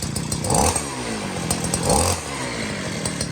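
A scooter converted to run on a 52cc grass-trimmer engine revs loudly and close, with a buzzing two-stroke note that swells in two short blips over a steady running drone.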